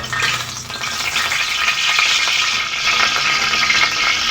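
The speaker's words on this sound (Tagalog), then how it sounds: "Sindihan na natin para eh, lagyan natin mantika. Ayan, mainit na mantika." Hot cooking oil sizzling loudly and steadily in a pan, a dense continuous hiss close up with faint crackle, no voices.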